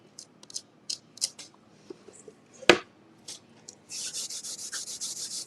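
Wiping clay off the hinge of a wooden book box: scattered soft scrapes and rubs, one sharp knock midway, then a run of rhythmic brisk rubbing strokes at the end, close and fairly quiet.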